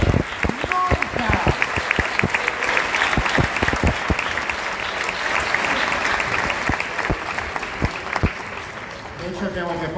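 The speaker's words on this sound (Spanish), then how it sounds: "Un aplauso a las mujeres por nunca ser simples" An audience applauds women at a 60th-anniversary celebration event, dense clapping filling the hall steadily for the whole stretch, with voices and cheers mixed into the crowd.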